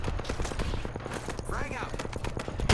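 Video game firefight with bursts of rapid gunfire and grenade blasts in close succession, loud and dense, while players talk over the action.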